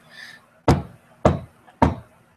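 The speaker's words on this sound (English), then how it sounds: "a knock on the door." Three sharp knocks on a door at an even, unhurried pace, close and distinct, with a faint higher noise just before the first.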